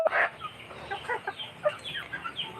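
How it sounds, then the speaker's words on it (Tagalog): Backyard chickens cluck busily while being fed, a dense, overlapping jumble of short clucks and squawks from several birds crowding together, fairly close and continuous throughout. "Nagpakain ako ng manok. Ayan, oh, sobrang dami, nag-aagawan pa."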